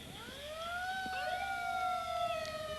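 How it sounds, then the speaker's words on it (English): An ambulance siren wails during a small-town Fourth of July parade, its rising and falling tone sweeping loud and fairly close in the open air with no talking. "Lights and sirens wailing."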